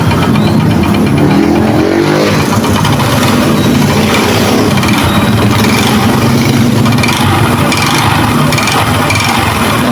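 A Bajaj Rouser 135 motorcycle engine with a suspected timing chain or piston fault runs loud and close, its steady idle carrying a persistent rattling knock throughout.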